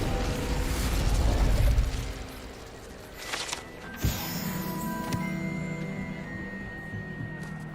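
Spell-casting effects in a Hogwarts video game, with the Incendio fire spell sounding as a low rumbling whoosh that gives way to a sharp crackling burst and fizzing, ringing tones, close and moderately loud.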